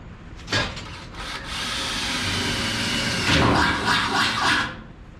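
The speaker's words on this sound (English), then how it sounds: "Just drill a hole." A steady grinding, whirring sound runs for several seconds at close range as a drill bores a hole for a tail light bracket on a 1955 Chevy gasser, with brief louder surges near the end.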